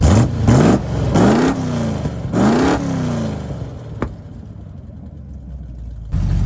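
A 383 big block V8 in a 1974 Dodge W100 truck revs hard several times in quick bursts, loud and close, then settles back to a rumbling idle.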